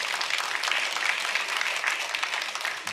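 A church congregation claps steadily for a pastor, a dense, even round of applause that carries on throughout without a break.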